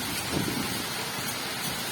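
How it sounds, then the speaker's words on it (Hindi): Steady heavy rain roars as a dense, even hiss with no pauses, heard up close. "इतनी तेज बारिश हो रही है"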